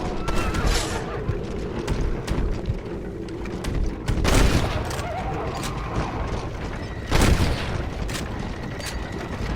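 Red Dead Redemption gunfire rattles over a dense, noisy game soundscape, with heavier booming bursts standing out twice amid continuous shooting and action noise.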